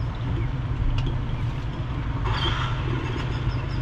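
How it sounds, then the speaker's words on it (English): An old boat engine runs steadily at idle, a low rumbling drone holding constant throughout with a brief brighter hiss partway through, no talking. "if you listen, that's what our old boat sounded like."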